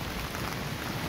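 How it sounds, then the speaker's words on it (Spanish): Heavy rain pours at an outdoor fair in Cuerámaro, Guanajuato, Mexico, a dense, even hiss of downpour filling the brief moment with no voices. "Fuerte está lloviendo, miren arriba."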